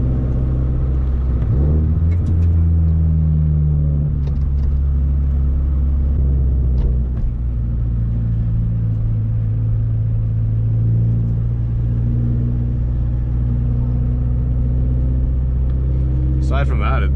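A Scion FR-S car being driven, its engine giving a steady loud rumble with gear changes and shifts in revs. Someone talks over it throughout.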